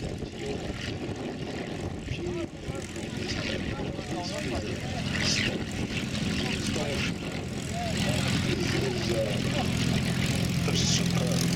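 A P-40 propeller fighter flies at an air show, its engine drone building and growing louder throughout while a commentator talks over it.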